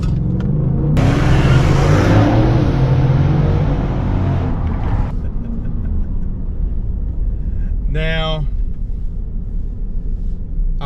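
A Ford F-150 pickup in four-wheel drive launches hard on launch control, its engine roaring loudly and steadily with heavy rumble throughout, followed by a brief high electronic chirp near the end.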